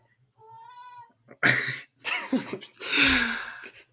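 A cat meows several times in close succession, a thin tonal cry followed by louder, drawn-out complaining meows, heard near and alone in an indoor room.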